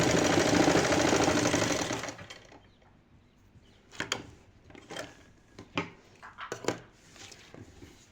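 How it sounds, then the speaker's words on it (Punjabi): A sewing machine runs a straight seam with a loud, steady whirring for about two seconds, then stops, leaving quiet with scattered clicks and light handling taps of fabric and metal. "ਹੁਣ ਆਪਾਂ ਇਹਦੇ ਨਾਲ ਸਿੱਧੀ ਸਲਾਈ ਲਗਾਵਾਂਗੇ"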